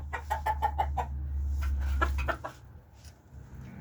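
Chickens in a backyard coop in spring cluck in a quick series of close, repeated calls over a steady low hum, followed by a few scattered softer clucks.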